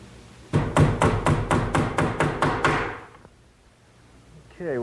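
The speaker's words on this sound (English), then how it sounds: "Now I'm going to pre-drill a few holes with some nails along the top edge." About ten sharp, evenly spaced hammer blows driving nails into the top edge of an oak bathroom vanity, close and loud, then a quiet pause before a brief voice at the end.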